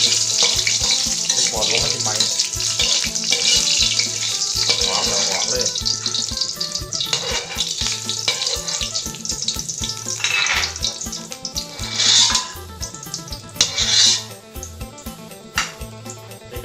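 Chilies frying in hot sweet oil for stir-fried water spinach, a loud steady sizzle with spatula scrapes and clatters against the pan, close up, with someone talking briefly over it.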